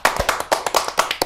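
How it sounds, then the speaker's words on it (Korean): A small studio group on a Korean political talk show claps to celebrate a channel milestone, a short run of sharp, close, evenly spaced handclaps. "여러분 박수!"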